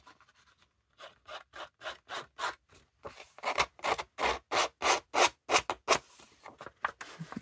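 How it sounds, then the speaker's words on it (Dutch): Paper edges being roughened for a Christmas card, a run of short rhythmic scratching strokes, soft at first and then louder and steadier, close by with no talk. "Dan gaan we deze twee eventjes opruwen."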